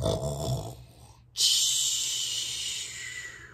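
A voice imitates snoring: a low rumbling inhale followed by a long, loud hissing exhale, close and alone.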